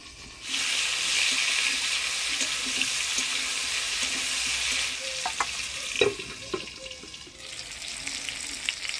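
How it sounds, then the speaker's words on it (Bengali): Cauliflower and potato frying in a covered pan, a steady hiss of sizzling oil with occasional clinks and scraping, fading somewhat toward the end. "ফুলকপিটা আমি ঢাকা দিয়ে দিয়ে ভেজে নিচ্ছি, যাতে ফুলকপিটাও সিদ্ধ হয় আর ফুলকপি আলুটাও ভালো ভাজা হয়।"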